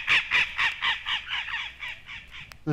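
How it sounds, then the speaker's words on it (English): Repeated loud squawks from red-crowned parrots in northeastern Mexico, about ten harsh calls in a steady series, close and clear, ending with a lower brief call. "The squawks of the Red Crown Parrot of northeastern Mexico"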